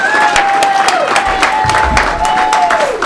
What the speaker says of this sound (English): Please, a warm round of applause for our very talented 7th grade student, Isaac Sproul.